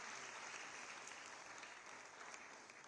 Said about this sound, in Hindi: जोरदार तालियों से इनकी हौसला अफजाई करें।